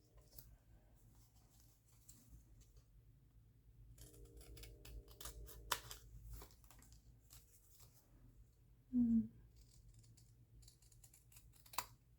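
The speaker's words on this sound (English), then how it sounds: "Let me get my scissors so we can cut them." Quiet close snipping of scissors through paper tickets, a few scattered cuts with soft rustling and a single louder clunk midway.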